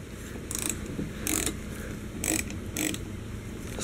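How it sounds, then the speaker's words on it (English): Small ignition module screws on a 1988-95 GMC/Chevy truck 5.0/5.7 distributor loosened with a ratcheting tool, giving several short, close clicking bursts over quiet background with no talk. "Get these little ignition module screws off."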